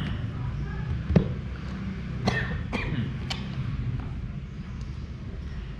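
A few sharp coughs break out at irregular intervals over a low, steady background murmur of a room.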